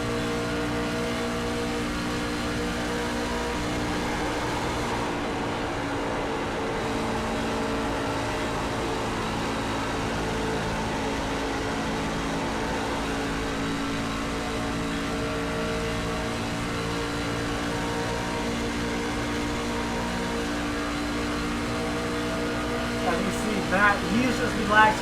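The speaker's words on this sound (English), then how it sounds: "As we hear him pushing his truck pretty well" Onboard engine of a race truck at Michigan, a steady, loud drone sustained throughout with slight pitch rises, ending with a few sharper bursts near the close, with talk over it.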